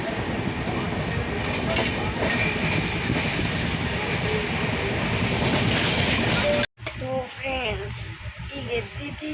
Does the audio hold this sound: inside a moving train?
yes